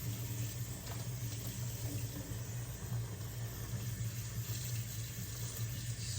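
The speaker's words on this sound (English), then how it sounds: "then rinse out my sponge" Steady, loud stream of water running from a kitchen tap into a sink while a sponge is rinsed, continuous and close with no pauses or voices.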